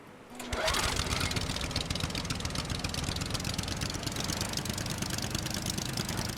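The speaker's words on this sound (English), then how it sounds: "The engine of the raft was annoying." In Stranded Deep, a raft engine kicks in after a short click and then drones steadily at a constant idle, a buzzy, rattling engine hum that runs without pause to the end.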